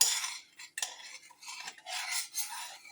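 A metal spoon clinks and scrapes against a pot of turmeric milk thickened with rice flour, several distinct close taps and stirring scrapes in uneven rhythm, no voices.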